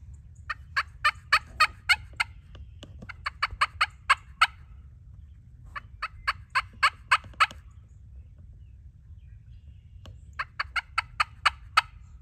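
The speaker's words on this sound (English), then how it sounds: "Let's go ahead and pick up the Canyon Cutter aluminum call." A bright, high-pitched aluminum turkey call sounds in quick bursts of sharp yelps, several runs separated by short pauses, over a low steady background rumble.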